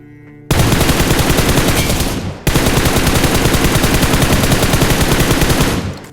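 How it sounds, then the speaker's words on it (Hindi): Sustained automatic rifle fire in the mobile battle royale game BGMI, a loud, rapid, even burst that breaks off briefly and then resumes as a long continuous stream before cutting off. "तभी मेरे को स्कूल की तरफ से फायर आता है"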